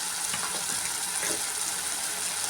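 Ground spices, including coriander and cumin powder, sautéing in oil for aloo dum gravy, a dense continuous hiss and crackle heard up close with faint stirring scrapes underneath.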